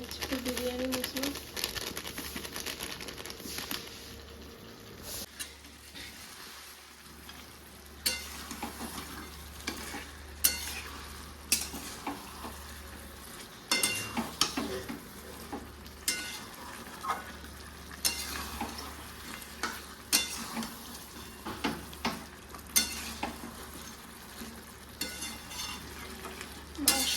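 Chicken being sautéed for biryani with Kashmiri red chilli powder, chicken masala and biryani masala sizzles steadily in a pan, with rhythmic spoon scrapes recurring throughout and some talk near the start.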